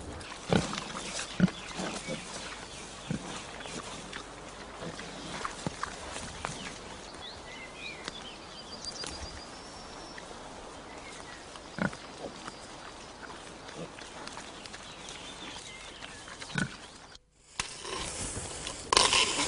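Pigs dig and root through the ground of a permaculture orchard, giving a steady, close scuffling of snouts and hooves in soil with scattered grunts and snorts throughout.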